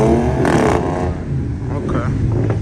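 An Infiniti G37 and an Audi S4 accelerating hard in a night street race in Baltimore, engines roaring loud and close throughout, with voices talking over them.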